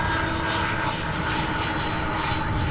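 An airliner arriving from Houston, Texas, at Louisville International Airport passes close by, a loud, steady engine roar with a whining tonal edge, heard alone.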